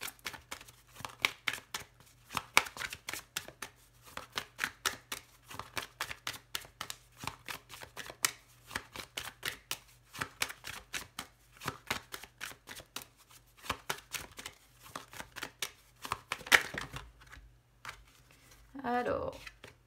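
Oracle cards being shuffled for a cross-shaped card reading, a long run of quick riffling and slapping bursts close by, with a soft voice speaking near the end.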